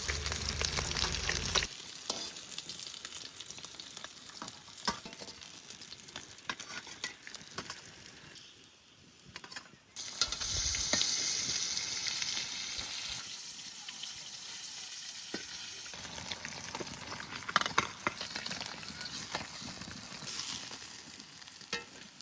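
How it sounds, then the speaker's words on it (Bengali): Pieces of rohu fish frying in oil make a continuous crackling sizzle with occasional stirring and scraping sounds, close and fairly loud, briefly dipping before returning, with no speech. "কত সুন্দর হচ্ছে মাছগুলো ভাজা,"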